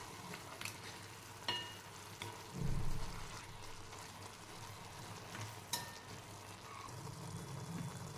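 Spring onion curry sizzling in a pan as chili powder, turmeric and coriander powder are stirred in, with steady frying hiss and intermittent scraping thumps of the spoon, no talking.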